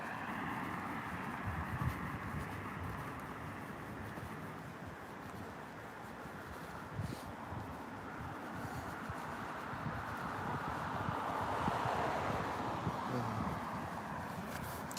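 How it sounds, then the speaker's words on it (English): A car approaching from behind on a city street at a traffic light, a steady low engine and tire rumble that builds gradually against faint outdoor background noise. "I hear a car coming up behind me for the other side"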